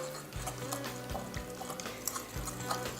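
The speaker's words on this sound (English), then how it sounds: "gonna whisk those ingredients together to make our sauce" A whisk clicks and stirs rhythmically in a bowl, mixing peanut butter sauce ingredients for Thai chicken; quick repeated taps and liquid swishes, fairly quiet and close, with no talk.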